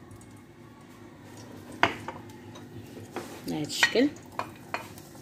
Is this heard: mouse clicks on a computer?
no